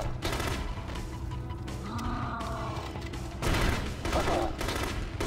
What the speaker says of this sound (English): that was a charge shot